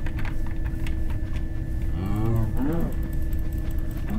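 A cow in the video game Minecraft gives one clear, drawn-out moo over a steady background hum, close and fairly loud.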